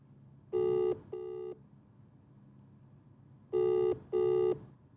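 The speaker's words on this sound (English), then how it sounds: "Hold on, let's just phone him." A telephone ringback tone sounds as an outgoing call waits to connect, giving two pairs of clear electronic double rings spaced a few seconds apart over faint background hiss.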